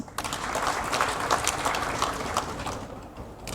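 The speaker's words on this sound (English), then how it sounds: "let's clap for our panelists" Audience applauding panelists at a conference session in a hall, a steady broadband patter of many hands held at a fairly even level throughout, with no speech over it.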